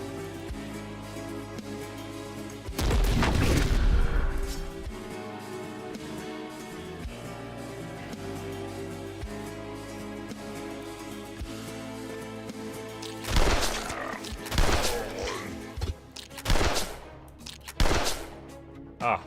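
Gunshots in a video game: a loud burst of shots early on, then a quieter stretch of game music, then a rapid cluster of several sharp reports toward the end, all heard without talk over them.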